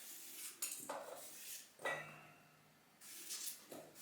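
Food clatters into a big pot alongside lard for sautéing onions: a few separate bursts of metal pot and utensil clanks and scrapes with quiet gaps between, fairly faint.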